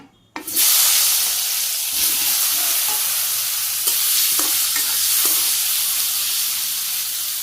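Eggplant and bitter gourd fry in hot oil in a wok with a loud, continuous hiss and sizzle that starts abruptly. Occasional stirring clinks cut through, close up and with no voices.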